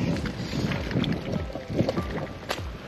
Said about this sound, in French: Là, j'ai toujours le vent de face.